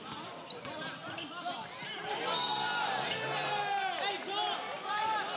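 Crowd noise at an outdoor basketball court during a heated 2v2 street game, a steady murmur of many voices and shouts with sneaker squeaks and ball bounces, loud and continuous throughout.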